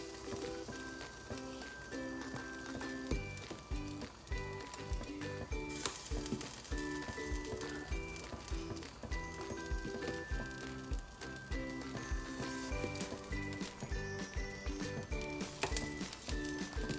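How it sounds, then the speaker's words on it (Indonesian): Pempek fish cakes, including shrimp pempek ebi, fry in hot oil with a steady, close sizzle that runs throughout, under continuous background music. "Nah, kita sekarang goreng aja sebagian ya."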